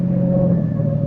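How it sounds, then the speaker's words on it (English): Car engine droning steadily and loudly as it's driven hard and fast around curves on a country road, a sustained close rumble with no let-up. "I drove Alan Carlin's car like a reckless idiot, taking every curve as if it was a race course"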